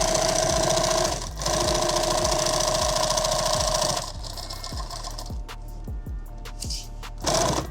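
A sewing machine stitches webbing and Velcro onto a custom bag, its motor whirring loudly in steady runs, briefly pausing, then slowing into a ticking, pulsing rhythm of individual stitches before a final fast burst.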